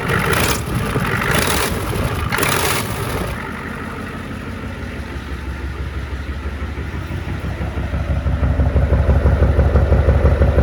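A diesel Ford F-250 pickup engine runs with a cracked exhaust manifold leak, a close, steady clattering idle with rhythmic ticking puffs; a few loud broadband bursts open it, and the engine note grows louder toward the end.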